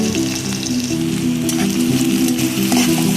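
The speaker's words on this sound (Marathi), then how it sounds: "अगदी मंद असे वर गॅस ठेवायचा आणि तो कांदा शिजू द्यायचा" Sliced onion and chillies frying in a pan over a low flame, giving a steady, close sizzle with occasional scraping stirs.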